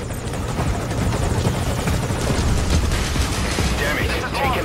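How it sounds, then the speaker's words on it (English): A helicopter hovers overhead in Metal Gear Solid Ground Zeroes, its steady rotor thrum loud and continuous, with faint bursts of distant gunfire mixed in. "I'll have the chopper wait in the air."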